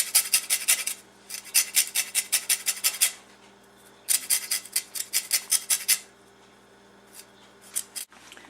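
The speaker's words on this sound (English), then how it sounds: "take one of your limes and take a grater and use like the smallest setting on it" A lime is zested on the smallest setting of a grater in quick bursts of rhythmic rasping strokes, two long runs with a pause between, then a few scattered scrapes, close and fairly loud.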